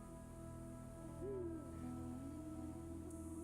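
An owl in California's wild landscape gives a low, wavering hoot that rises and trails off, then a second softer call, heard over a steady background hum with no voices.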